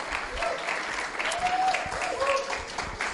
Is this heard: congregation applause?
yes